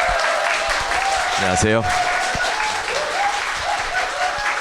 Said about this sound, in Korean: 박수로 맞아주시면 안 돼요.